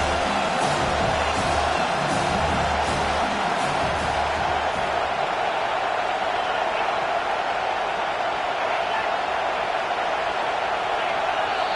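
Crowd noise fills a football video game stadium, a steady wash of roaring and cheering that holds at an even level throughout, with low rhythmic thumps early on fading out partway through.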